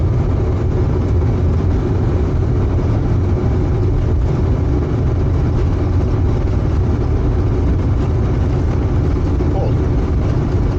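Boeing 747-400 freighter jet engines spooled to takeoff thrust, heard from the cockpit as a dense, steady low roar and rumble that holds constant throughout.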